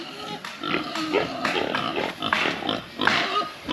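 Pigs grunting on a free-range farm, a run of close, rough snorts and grunts coming in irregular bursts for a few seconds with no talk over them.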